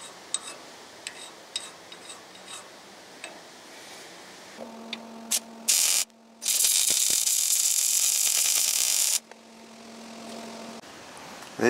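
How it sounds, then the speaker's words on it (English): Angle grinder cutting metal brackets for a Model A Ford pickup build, a loud steady broadband whine that bursts in briefly, stops, then runs continuously for about three seconds before cutting off, amid quieter workshop clicks and ticks. "Let's mark them out and get the grinder onto that."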